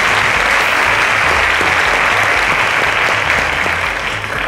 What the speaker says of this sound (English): A round of applause, ladies and gentlemen